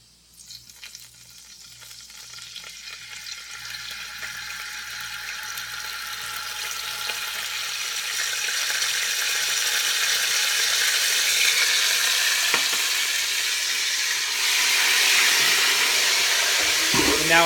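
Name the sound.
pasta water sputtering in hot garlic oil pan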